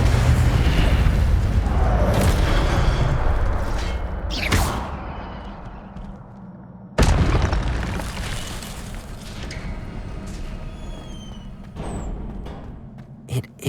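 The Incendio fire spell cast in Hogwarts Legacy: loud booming bursts of flame and crackling impacts, a sharp blast midway followed by a roaring, fading fiery rumble with scattered pops.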